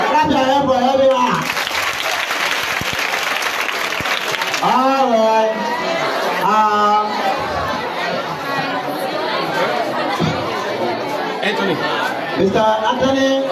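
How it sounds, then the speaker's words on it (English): An audience at a school computer lab handover ceremony at Jones Moore Public School in Liberia claps and chatters, a crowd of hands applauding beneath lively voices and calls that carry over most of the stretch. "Clap your hands for everyone."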